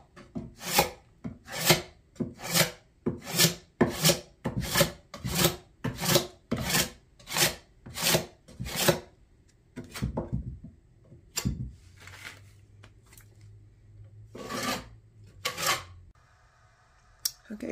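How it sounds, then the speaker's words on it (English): A tool burnishes venetian plaster on a piece of furniture, making close, rhythmic rasping strokes about two per second, then slower, scattered scrapes and rubs. "now I'm gonna burnish it because I want this to be shiny"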